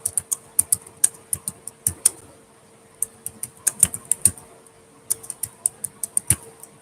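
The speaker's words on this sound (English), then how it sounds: "Let me try to type something," Fast, close clicking of keys on a computer keyboard, in uneven bursts with brief pauses.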